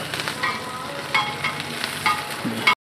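Garlic and ginger sizzle and crackle in a hot wok, with occasional scraping stirs, steady and close before cutting off abruptly.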